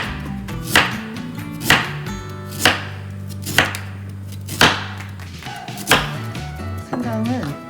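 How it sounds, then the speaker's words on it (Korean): Ginger is sliced with a knife on a cutting board, producing about seven sharp, evenly spaced chops roughly a second apart, close and distinct against a quiet background. "그래서 생강도 점여주세요."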